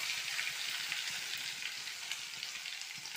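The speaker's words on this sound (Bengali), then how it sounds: "কড়াটা গরম হয়ে গেছে, দিয়ে দিচ্ছি রসুন বাটা," Garlic paste frying in a hot wok gives off a steady, dense sizzle with no break, close and fairly quiet, carrying faint crackles throughout.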